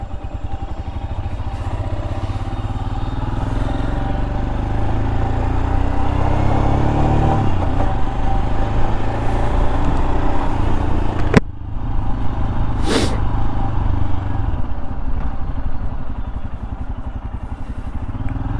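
A Royal Enfield Scram 411 motorcycle on a test ride gives a steady, close engine drone with rising revs and a brief sharp clack midway, with no talking.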